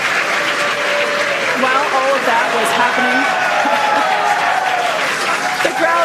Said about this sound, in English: the crowd here in Hawthorne continuing to react to all these amazing views that we're getting